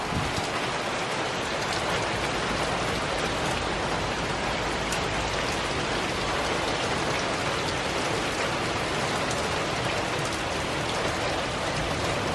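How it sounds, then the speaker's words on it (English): Steady, dense rainfall patters on surfaces, a continuous close hiss with no voices. "Can you hear the rain?"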